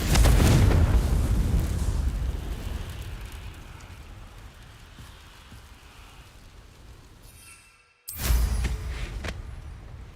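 A Confringo blasting spell in Hogwarts Legacy, a loud booming burst at the start that fades into a long rumbling decay, then a cut and a second sharp blast near the end.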